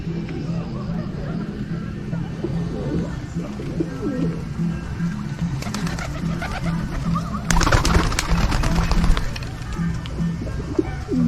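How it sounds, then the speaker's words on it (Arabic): Pigeons or doves coo steadily in a bird garden at Tiout oasis, a low repeating call close by, with a busy background of other birds, people talking and occasional clattering. "حديقه الطيور."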